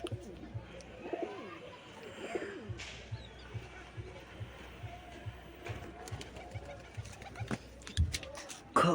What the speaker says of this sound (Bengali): দেখুন, দেশি পায়রার বাচ্চা, এটা যেটা ডাক দিচ্ছে